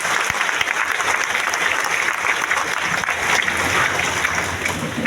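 Crowd at a public event in Latehar, Jharkhand applauding, a sustained dense wash of clapping that holds steady for five seconds with a faint murmur underneath.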